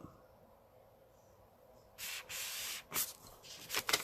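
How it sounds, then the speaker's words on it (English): A few short bursts of spraying hiss out after a quiet stretch, quick and close, like a spray bottle being pumped. "Oh, gotta spray it."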